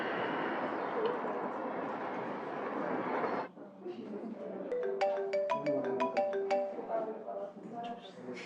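A mobile phone ringtone plays a bright, repeating melodic tune of short electronic notes, following a stretch of steady background noise, with faint room sound beneath it.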